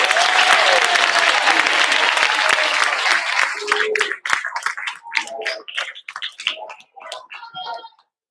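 Applause for middle school award winners at an awards assembly, a thick burst of clapping from the crowd that fades into scattered individual claps, with a voice briefly heard.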